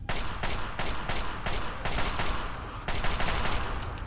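Sustained automatic fire from an assault rifle in Fallout 3 rattles as a steady, dense stream of rapid shots, fairly loud and close, with no voices over it.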